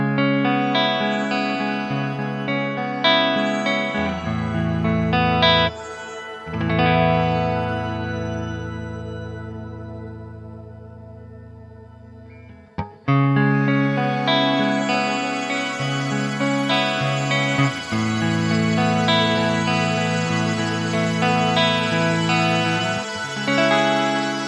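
Chords played through a Line 6 HX One / Helix reverb ring out and sustain with a long shimmering wash. Phrases swell, break off near the middle and start again, with the tail blooming loudly around each new chord.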